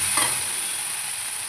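Brinjal and drumstick pieces sautéing in a pan give a steady, close frying hiss that holds evenly throughout, with a brief stir near the start.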